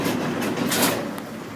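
A steady mechanical rumble and hiss of a moving aerial tram cable car in Cali, with faint rhythmic clacks as it travels along.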